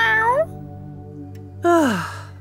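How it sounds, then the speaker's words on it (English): A cartoon cat gives two loud, close meows, each a drawn-out falling cry, separated by a quiet pause of about a second. "Meow. Meow."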